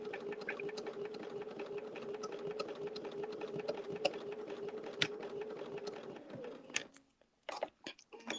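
A sewing machine runs steadily while stitching a quilt, a continuous close mechanical whir for about six seconds, then stops and gives a few short separate bursts of extra locking stitches.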